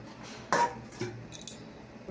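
A metal lid set onto a cooking pot of potatoes being braised, giving a sharp clank with a second lighter knock and brief rattle, fairly close, with quiet kitchen background and no talk.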